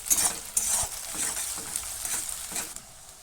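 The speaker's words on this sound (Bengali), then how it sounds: "অল্প একটু তেল দিয়ে তার মধ্যে পেঁয়াজ কুচি দিয়ে পেঁয়াজটাকে ভেজে নিতে হবে" Chopped onions sizzle in a little oil in a wok, with bright crackling frying noise and a few sharp stirring scrapes and clinks, loud and close, no voices.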